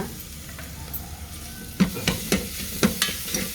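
Ginger-garlic frying with chopped onions for chana masala, a soft steady sizzle in the pan, then several sharp spoon scrapes and knocks against the metal as the mixture is stirred.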